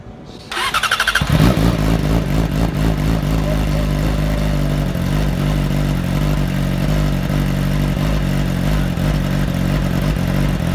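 A Yamaha R6 motorcycle fitted with a full exhaust cranks and fires on a cold start, then settles into a loud, steady, throbbing idle close to the microphone with no talk over it.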